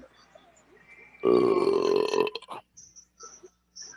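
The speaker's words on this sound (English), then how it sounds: "immediately after I burp you burp" A loud, drawn-out guttural burp lasting about a second, close to the mic, followed by quiet scattered mouth noises and a few faint sounds.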